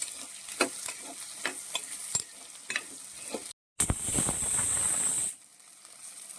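Masala sautéing in a pan for a prawn and jackfruit seed curry, a spoon scraping and stirring in a steady rhythm over a soft sizzle, then a brief cut followed by a louder, bright hiss of frying.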